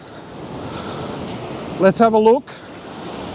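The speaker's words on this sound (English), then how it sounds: "Let's beat the waves. They're coming in on that side." Ocean waves rolling into a beach beside a cave, a constant wash of surf and wind, with someone speaking briefly near the end.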